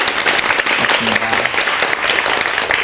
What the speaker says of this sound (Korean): 두 분 강사님께 다시 한번 큰 박수 부탁드릴게요